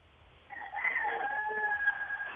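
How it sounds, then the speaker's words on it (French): Roosters crowing very early in the morning in Bafia, Cameroon, a drawn-out cock-a-doodle-doo rising over faint background noise and holding steady for a couple of seconds, with no talk. "On entend encore les coqs chanter, il fait très tôt là-bas à Bafia."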